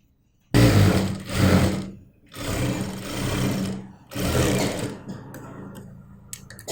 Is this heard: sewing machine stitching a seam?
yes